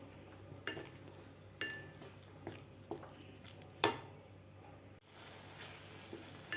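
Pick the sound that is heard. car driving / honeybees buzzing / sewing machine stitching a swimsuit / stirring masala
stirring masala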